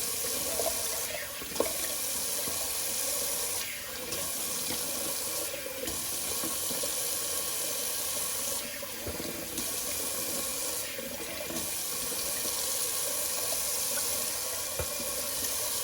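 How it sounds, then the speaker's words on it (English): A bathroom tap runs into a sink for a cold water face rinse, a steady close hiss of flowing water with brief splashy interruptions as hands scoop and splash. "let's see if we can do the old cold water rinse and see if we can get this slickness off the face"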